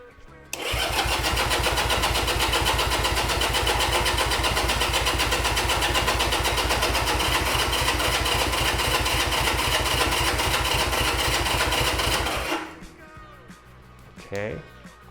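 Honda CB200T motorcycle engine cranking and catching, then a loud, rapid, even idle with the choke on, running about twelve seconds before dying, followed by faint talk and clatter.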